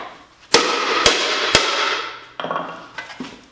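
Mallet blows on the inside of an aluminum sheet being stump-shaped into a dish, three sharp metallic strikes about half a second apart, then a few softer taps as the metal ripples into a tuck.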